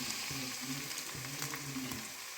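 Onions frying in a pan with a little salt during tempering for a greens stir-fry, giving a steady close sizzle with faint stirring scrapes throughout, no talking.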